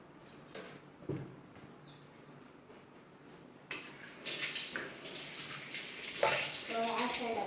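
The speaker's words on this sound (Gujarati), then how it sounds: "તું જે ટામેટું છે એ ધોઈ આવ" Running tap water splashes steadily over a tomato being washed, starting partway through and continuing loud and close, with a few soft knocks and handling noises before it.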